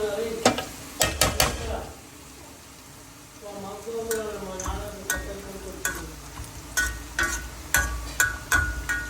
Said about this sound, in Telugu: నేను ప్యారలల్గా నట్స్ కూడా ఫ్రై చేస్తున్నాను.